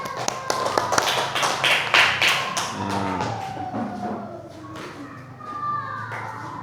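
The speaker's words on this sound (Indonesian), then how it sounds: "Tepuk tangan anak-anak ya." A group of children in a classroom claps after a presentation, a burst of quick, overlapping close hand claps that thins out into scattered taps while voices and chatter carry on beneath.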